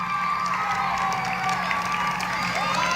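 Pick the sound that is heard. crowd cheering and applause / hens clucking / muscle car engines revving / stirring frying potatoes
crowd cheering and applause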